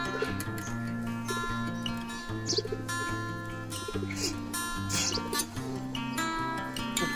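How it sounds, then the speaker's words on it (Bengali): A pigeon coos in low repeated throaty phrases close by, with steady rhythmic clicking ticks and occasional other bird sounds around it. "খুব সাহসী একটা কবুতর, অনেক সাহসী একটা"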